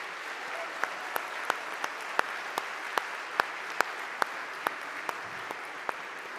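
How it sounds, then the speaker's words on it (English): At a conference, a few sharp individual claps ring out at a slow, fairly regular beat over a steady background hiss, sparse and distinct rather than a full burst of applause. "you must clap for J.P."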